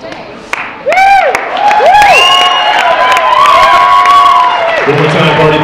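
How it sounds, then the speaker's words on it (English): Guests at a wedding reception clap and cheer loudly for the maid of honor, with whoops and shouted voices rising over sustained applause as a speaker's amplified voice carries through. "big round of applause for our maid of honor, Courtney."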